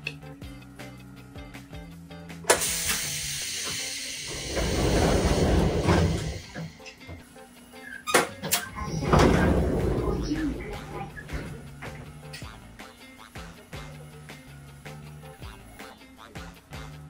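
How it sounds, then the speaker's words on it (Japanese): Train doors opening during a retired driver's training run on a Japanese railway: two loud bursts of pneumatic hiss and door movement, each swelling then fading, with clunks and quieter station noise between. "ドア開放。"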